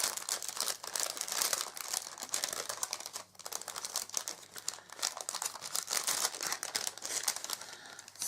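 A Christmas paper gift bag crinkles and rustles continuously up close, with dense crackling bursts and a brief dip midway, no talking.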